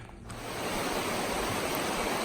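Cooper River rushes steadily in the Alpine Lakes Wilderness, a loud, continuous broadband roar of flowing water that swells in after a brief quieter start and holds without a break.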